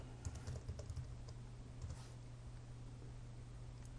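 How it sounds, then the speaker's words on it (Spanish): Rapid clicking keystrokes on a computer keyboard, fairly close and quiet, in quick irregular bursts over a low steady hum, with no voices. "seleccionar la caja alta en nuestro teclado y escribir la frase palabra a palabra"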